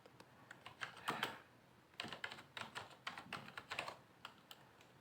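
Quick bursts of typing on a computer keyboard, close and quiet, keys clattering in short uneven runs separated by brief pauses.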